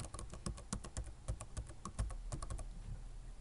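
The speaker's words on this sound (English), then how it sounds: "So the first thing we're going to do is type explorer.exe." Rapid clicking keystrokes on a computer keyboard, close and crisp, in an uneven burst of taps with no talk.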